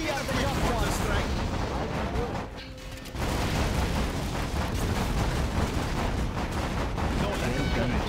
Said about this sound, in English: Need a quick mortar strike.